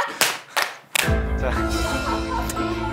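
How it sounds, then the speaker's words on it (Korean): Students in a high school classroom clap in a few sharp beats in the first second. Right after, a dense, sustained burst of sound takes over and stays loud to the end. "자 얘들아 박수 3번 시작"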